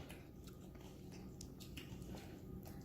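Crunchy green chilaquiles being bitten and chewed at a breakfast table, giving a steady run of close, crisp crunches and mouth noises over a low background hum.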